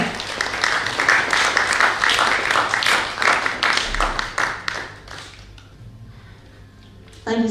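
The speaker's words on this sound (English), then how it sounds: "Ladies and gentlemen, please give a round of applause to Sanam Arora" Audience applause at an International Day of Yoga award ceremony in London, a loud, dense round of clapping that tapers off after five seconds into quiet, with a brief sound returning at the very end.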